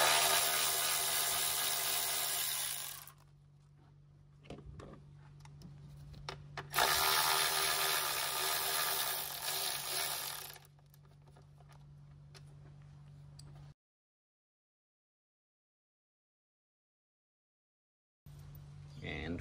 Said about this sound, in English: we're gonna remove these two first because it's quite hard to access the